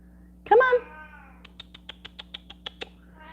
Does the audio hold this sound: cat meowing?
yes